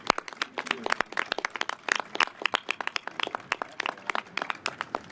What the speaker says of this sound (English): I'm going to ask for a round of applause for members of the City Council